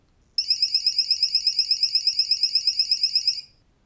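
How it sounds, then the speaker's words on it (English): An Adaptiv TPX automotive laser jammer sounds its alert before system shutoff: a loud, high, rapidly pulsing electronic beep lasting about three seconds, then it cuts off into near silence, with no talk. "So simple beep, the alert LED flashes, and then the entire system is now shut off."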